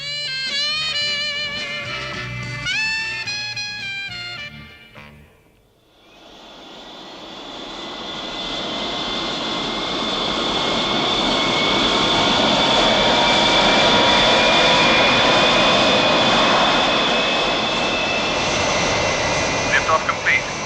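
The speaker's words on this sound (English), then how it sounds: "Liftoff complete." A spacecraft lifts off with a roaring engine. Tonal voices come first, then a short gap, then a broad rumbling roar that swells and holds steady, loud and close, for the rest of the stretch.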